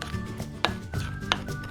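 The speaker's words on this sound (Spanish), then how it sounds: "Y mezclamos por última vez." Chocolate chip cookie batter for a one-minute microwave cookie being stirred in a bowl, a steady close scraping with two sharper knocks of the utensil against the dish. No voices.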